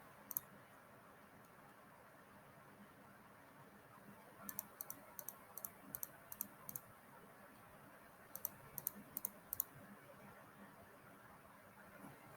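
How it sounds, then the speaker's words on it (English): A computer mouse clicks in quick sharp bursts, a single click early and then two runs of rapid clicks, crisp and close over a quiet hum. "I am going to go through and just click stuff"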